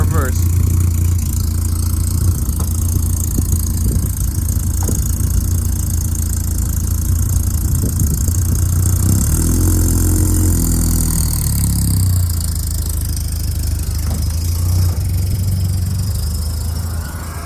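An old boat engine idles in reverse with a loud, steady rumble that runs throughout without a break. Its pitch shifts a little midway as the gear engages.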